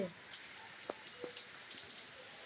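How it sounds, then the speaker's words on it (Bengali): Light rain falls steadily in soft pattering drops, faint and even, with a few louder individual drips landing close by. No voices. "সারা দিন এইভাবে টিকটিক করে বৃষ্টি"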